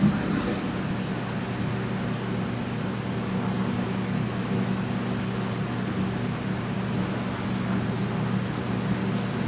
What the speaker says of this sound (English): let's try spraying it from the front and see if it wrap around.